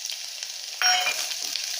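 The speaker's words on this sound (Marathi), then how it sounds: "मी याच्यात हा लसूण टाकणार आहे, खोडून घेतलेलं लसूण." Crushed garlic and cumin drop into hot oil in a pan and burst into a sudden loud sizzle that continues as a steady crackling hiss, with no voices.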